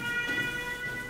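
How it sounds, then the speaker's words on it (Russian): An air raid siren sounds in a Ukrainian town during wartime power outages, a steady held wail with layered tones that carries evenly through the whole moment, mid-distance and moderately loud. "Звучит сирена воздушной тревоги"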